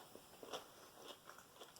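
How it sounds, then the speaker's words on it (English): A bite into a crunchy fermented radish rose, seasoned like a garlic dill pickle, gives a few faint, close crisp crunches and soft chewing sounds in an otherwise quiet setting. "I'm going to take a bite."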